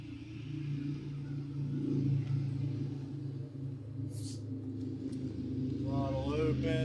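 A Cub Cadet lawn tractor's small engine runs with the throttle open, giving a steady low rumble close by that holds through the clip, with a voice briefly speaking over it near the end.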